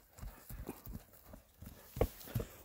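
A light-footed horse being led on foot for inspection before sale, its hooves clip-clopping in an even walking rhythm of distinct, close knocks, a couple of heavier strikes near the end, with no voices.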